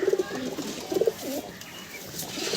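Belnangar pigeons, an old breed kept in a loft, give a few soft, close coos in short bursts with quiet gaps between.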